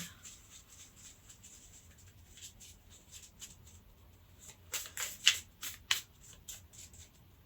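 Tarot cards being shuffled in quick riffling bursts, faint at first and then a run of sharper, louder snaps near the end, with no talking.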